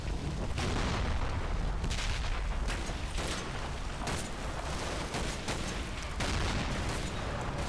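Grenade explosions and gunfire in the Combat Mission: Battle for Normandy war game, a dense, continuous barrage of booms and sharp shots rolling together loudly without pause.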